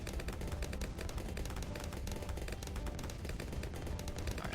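Mortar fire in a video game, rendered as dense rapid bursts of booming shots that run together into a continuous rattling barrage, faint and distant.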